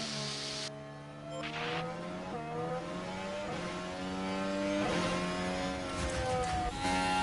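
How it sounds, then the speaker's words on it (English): Several Formula 1 race cars in the F1 Manager 24 racing game sweep past in turn, their high-pitched engine notes rising and falling in overlapping Doppler whines, each howl steady and close, with no talk. "Sainz has caught and passed Valtteri"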